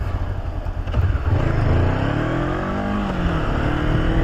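A 2015 Honda CB500F motorcycle engine pulls steadily while riding, its tone rising and shifting as it accelerates, loud and close throughout with constant wind and road rumble underneath.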